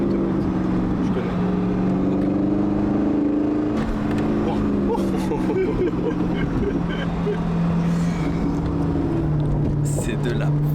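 A 2003 Corvette C5 Z06 engine droning loud and steady from inside the car as it accelerates and shifts gears, with people talking over it.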